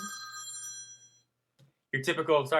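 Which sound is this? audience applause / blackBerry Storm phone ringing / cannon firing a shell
blackBerry Storm phone ringing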